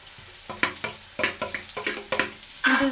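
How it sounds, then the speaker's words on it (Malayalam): Onions, with shallots, sautéing in a pan for a homestyle Kerala chicken curry: repeated scraping stirs over a soft sizzle, loud and close, with a sharper hiss near the end. "ഇതും കൂടി ഇട്ട് നന്നായിട്ട് നമുക്കൊന്ന് വഴറ്റിയെടുക്കണം"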